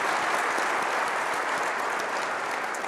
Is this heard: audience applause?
yes